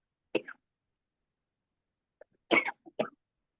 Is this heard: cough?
yes